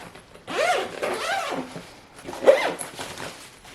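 A packing cube's zipper is drawn shut in two quick, rasping pulls, close and clear, with a short pause between them.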